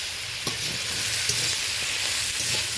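Potato pieces frying in a pan with salt and turmeric, giving a steady close sizzle that carries on throughout, broken by occasional scraping taps of stirring.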